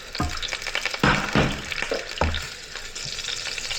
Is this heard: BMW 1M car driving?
no